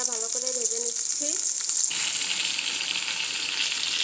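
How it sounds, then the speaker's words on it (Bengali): Fish frying in a pan of oil, a steady broadband sizzle that sharpens and fills out partway through, with a voice speaking over the first couple of seconds. "প্রথমে আমি মাছটা ভালো করে ভেজে নিচ্ছি।"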